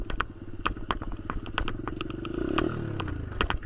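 A dirt bike engine runs close up, its rough, fast-pulsing idle rising to a louder rev midway, with sharp clattering ticks and knocks of the machine scattered throughout.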